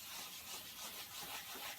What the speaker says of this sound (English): then, like I'm wet sanding it